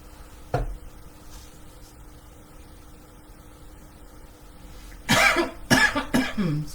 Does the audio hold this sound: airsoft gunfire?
no